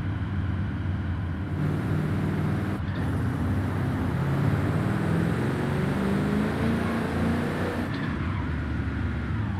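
A 1400 hp widebody Mercedes-Benz X-Class in Forza Horizon 5 drones with a steady, loud engine roar, holding a constant pitch with brief shifts in tone and no voices over it.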